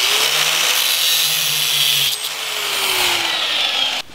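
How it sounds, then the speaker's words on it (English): A power tool grinds steadily through the excess of a steel leaf spring centering pin, a loud, close, high-pitched whine that holds for about four seconds, its tone sagging slightly under load before a sudden stop. "And cut off the excess of the centering pin."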